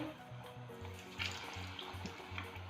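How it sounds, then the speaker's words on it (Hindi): Chicken pieces for crispy fried chicken drop into boiling oil and fry with a continuous, quiet bubbling hiss and crackle, close by, while a soft pulsing low tone repeats underneath. "अब इसमें हम ये चिकन के जो पीसेस हैं ये खौलते हुए तेल में डालेंगे"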